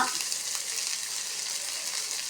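Sliced raw plantain and onion sauté in oil in a pan, giving a steady, close broadband sizzle with faint stirring scrapes throughout and no talking.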